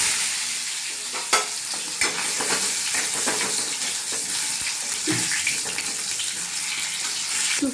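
Parboiled potatoes fry in hot oil for a dhoka recipe, a steady close sizzle with scattered clinks and scraping stirs throughout, and no voices.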